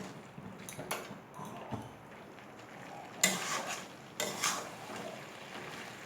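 Chicken cooked with lemon leaves is stirred and fried in a pan, with scraping and clinking of a utensil against metal in irregular bursts, two louder scrapes standing out over a quiet sizzle.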